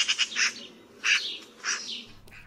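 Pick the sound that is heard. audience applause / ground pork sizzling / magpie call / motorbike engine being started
magpie call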